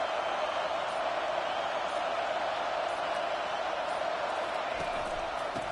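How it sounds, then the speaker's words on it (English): A football stadium crowd roars as a steady, distant wash of noise throughout, fairly faint and even, with no distinct cheers standing out. "Listen to the crowd energy here in the early going."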